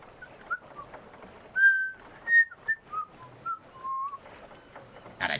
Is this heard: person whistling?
yes